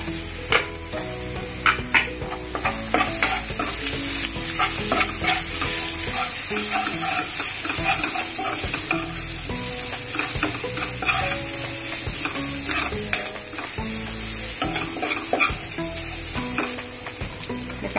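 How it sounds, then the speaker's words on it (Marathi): Onion and ground spices such as coriander, cumin, turmeric and asafoetida sauté in a pan for a Maharashtrian peanut-potato curry, with a steady loud sizzle broken by repeated stirring clatters and scrapes, and no voice. "कांदा चांगला परतलाय।"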